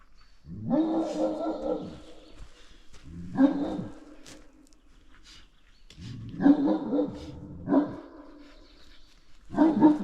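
A Great Dane barks at a temperament test, letting out deep, loud, booming barks in paired bursts, close by, with brief pauses between them.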